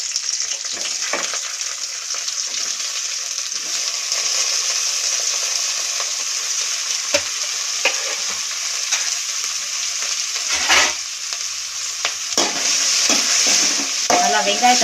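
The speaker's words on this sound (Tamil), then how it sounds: "நல்லா வெங்காயத்தை வதக்க நல்லா வதக்கிடணும்." Chopped large onions sautéing in hot oil in a kadai for a village-style chicken gravy, a steady close sizzle and frying hiss with occasional stirring scrapes and clinks throughout.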